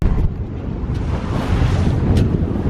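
Waves and gusting wind at the exit of a boat harbour on open sea: loud broadband rushing and buffeting wind against the microphone with churning water, steady and close throughout.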